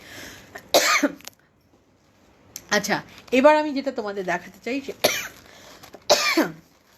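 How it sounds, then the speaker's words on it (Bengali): Dry coughs break out during a live pre-Puja exhibition, one sharp burst early and another near the end, each close and loud, with someone talking between them. "আমার একটু কাশি হচ্ছে, কাশিটা তো মাঝে মাঝেই হচ্ছে"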